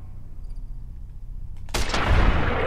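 Gunfire in the video game Fallout New Vegas: after a quiet stretch, a single loud, close gunshot bursts out and rings into a dense, booming tail, with no talk over it.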